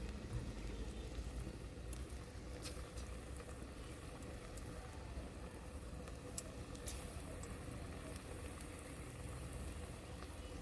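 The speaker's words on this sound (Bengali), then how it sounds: "আমার অলরেডি তেলটা গরম হয়ে গেছে, আমি এবারে এক এক করে দিয়ে দিচ্ছি" Small pakoras of five kinds of leafy greens and two kinds of cabbage sizzle in hot oil, a steady, soft crackling bubble with a few sharper pops, alone and fairly faint.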